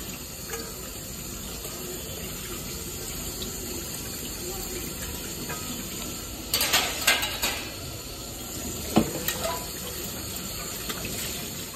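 Dishes being washed under a running kitchen tap, a faint continuous water hiss with scattered clinks and clatters of utensils, louder in the latter half.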